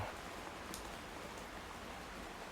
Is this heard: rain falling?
yes